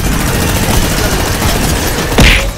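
Sustained rapid gunfire from a minigun in a multiplayer shooter video game, a dense continuous burst with a sharp louder blast near the end, loud and close throughout.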